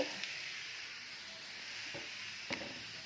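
Hot oil with turmeric sizzles in a pan: a soft, steady hiss throughout, with a few faint clicks and a brief stir-like tap near the end, and no talking.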